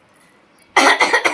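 A person with a cold gives a harsh burst of several coughs and throat clearing, loud and close, after a short quiet pause.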